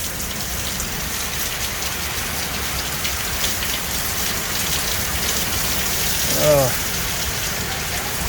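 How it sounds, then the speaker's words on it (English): Heavy rain after a hail storm in Norman, Oklahoma, pouring in a steady loud hiss on surfaces, with a brief voice sounding near the end. "that rain is going crazy."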